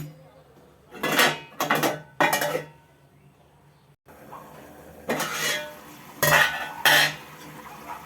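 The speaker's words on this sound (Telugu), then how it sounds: "మూత పెట్టుకుందాం" A lid goes onto a pot of simmering gongura curry, heard as several distinct metallic clanks and rattles in short bursts, close and fairly loud, with quieter gaps between.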